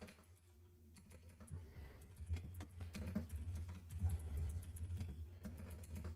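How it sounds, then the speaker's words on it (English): Soft, quick keystrokes tap on a computer keyboard at a desk during C++ programming, an irregular faint clatter running through the whole stretch with no voices. "Everything else is just typing on a keyboard."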